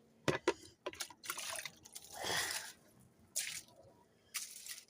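Water is poured and splashed onto garden plants, including a banana plant, giving irregular drips, splatters and short gushes up close, alone with no talking.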